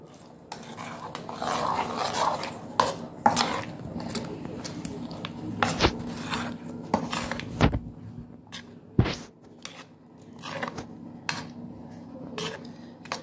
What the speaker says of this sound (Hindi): 1/2 टीस्पून से थोड़ा कम रेड चिली पाउडर और काली मिर्च पाउडर थोड़ा, इन सबको हम अच्छे से मिक्स करेंगे